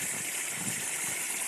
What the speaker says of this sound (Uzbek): Buloqdan suv kelyapti.